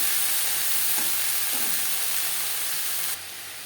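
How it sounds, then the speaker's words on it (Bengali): Greens and eggplant sizzle steadily as they are stirred in a frying pan over medium flame, with a couple of soft scraping stirs; the hiss is close and continuous, without talk. "বেগুনের সাথে শাক বেশ ভালো করে মিক্স করে দেবো"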